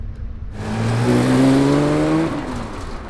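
A Porsche 991 Speedster fires up nearby with a rising engine note that swells into a brief rev, then settles back to idle.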